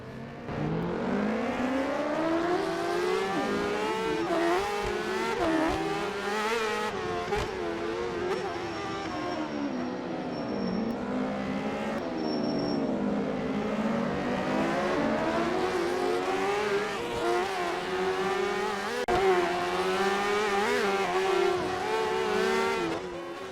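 Racing motorcycles in a BSB superbike video game, engines wailing and rising and falling in pitch through gear changes and power wheelies, loud and continuous with several bikes close together.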